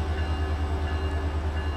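An MP36PH diesel locomotive in Train Simulator 2018 on the Peninsula Corridor hums with a steady, deep engine drone. The sound stays at an even moderate loudness with no voices.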